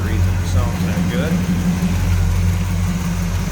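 A 1986 Chevrolet K20 4x4 pickup's 5.7-liter 350 V8 with Edelbrock carb and headers idling with a steady, low, slightly lumpy rumble, close and continuous under a voice.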